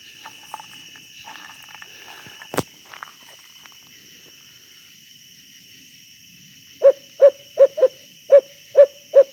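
An owl, shifting from a barred owl's call to a screech owl's, calls in a steady run of seven evenly spaced hoots, fairly close and clear, after a quiet stretch of insect chirring and scattered faint noises.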